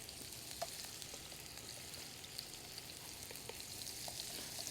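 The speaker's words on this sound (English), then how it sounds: "if it's not sizzling, not getting that crackle pop" Shrimp seasoned with garlic powder and Old Bay fry in a pan with a steady, dense sizzle and scattered crackles and pops.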